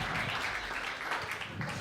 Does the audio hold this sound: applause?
yes